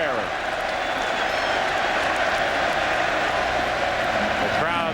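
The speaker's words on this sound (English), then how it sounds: "I said you were a first-class crowd, and here you are booing me." A baseball stadium crowd at a Braves–Mets game in New York reacts to a fielding error, giving a steady, broad roar of disapproval that fills the background while a broadcast commentator talks over it.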